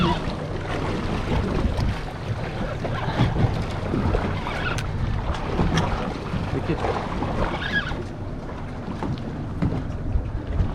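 An outboard motor on a fishing boat runs in reverse while out after mahi mahi, a steady rumbling drone mixed with wind buffeting and water wash, close to the microphone throughout.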